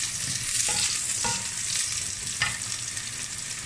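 Duck tongue frying in hot oil in a wok, a loud, dense, continuous sizzle with a few scrapes of a spatula stirring, close up and with no voices.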